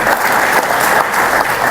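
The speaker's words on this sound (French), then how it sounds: "j'aimerais vraiment qu'on les applaudisse" An audience applauds at the 17th annual African cashew conference, honouring the organising team. Loud, dense clapping runs throughout the short stretch at a steady level.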